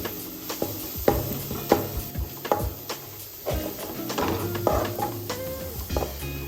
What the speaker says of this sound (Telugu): అల్లం వెల్లుల్లి పేస్ట్ 1 స్పూన్ వేసుకుంటున్నాం. ఇది పచ్చివాసన పోయే వరకు బాగా ఫ్రై చేసుకుందాం.